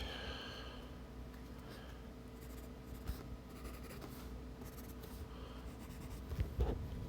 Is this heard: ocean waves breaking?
no